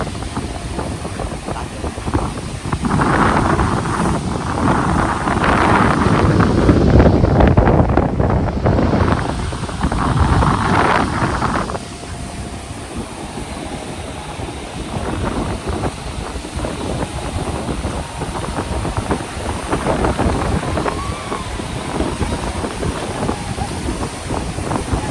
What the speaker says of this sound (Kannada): ಈಗ ಜೋರು ಗಾಳಿ ಮಾತ್ರ